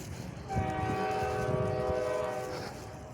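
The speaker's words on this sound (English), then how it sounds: "So you get one backward train there." A train rolls along railroad tracks in reverse, a steady rumble beneath a sustained horn blast lasting about two seconds, heard from a moderate distance with no talking.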